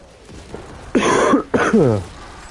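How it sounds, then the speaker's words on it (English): A man with a lingering cough, recorded during a live Destiny 2 gaming session, lets out two harsh, close throat-clearing coughs in quick succession, each lasting about half a second, against a quiet background. "there's that cough I was talking about"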